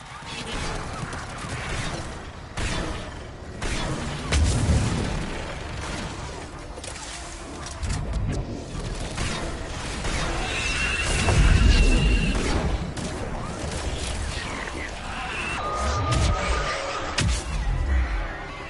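Missile strikes landing in Mass Effect 3 combat, several heavy booming explosions with low rumbling tails at irregular intervals, mixed with mechanical clanks and creaks amid ongoing battle noise and spoken dialogue.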